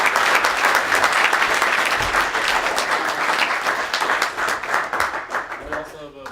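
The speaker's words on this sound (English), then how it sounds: "Big round of applause for." Audience applause at a search marketing meetup, a dense, sustained wash of many hands clapping that holds steady for several seconds and thins slightly toward the end.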